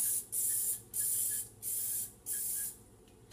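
Four short bursts of aerosol cooking spray onto a silicone muffin mould, each a bright hiss lasting about half a second with brief pauses between, close by, followed by a sharp click.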